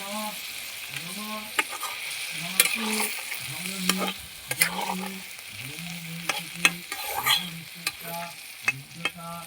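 Fish curry simmers in a pan as water goes in and a spatula stirs with repeated sharp clinks and scrapes over a soft bubbling sizzle, while a low, tonal hum runs underneath.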